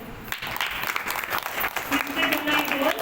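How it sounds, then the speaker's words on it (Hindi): An audience at a spiritual class claps together in a dense, steady burst of applause, with a voice speaking over the clapping. "ताली बजाओ।"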